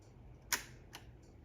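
A vintage Kodak 35 camera shutter fires once in a single sharp, close mechanical click. A fainter secondary click follows in a quiet room.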